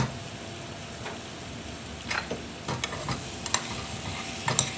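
Mushrooms frying in ghee give a steady close sizzle, with occasional stirring scrapes and small pops that grow more frequent toward the end.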